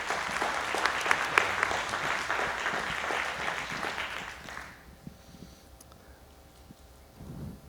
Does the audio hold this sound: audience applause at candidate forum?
yes